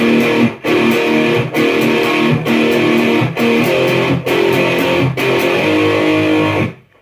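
A distorted electric guitar chugs the loud pre-chorus riff of a song, played on the top three strings in repeated chord bursts, each cut by a brief pause, ending with a ringing chord that fades out.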